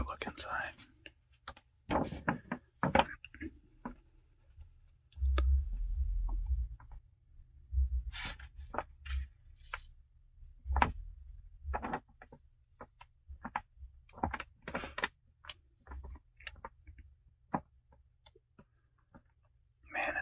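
A 1994 pack of Vertigo trading cards is handled and opened with soft crinkles, taps and ticking card clicks, close and quiet, under intermittent whispering.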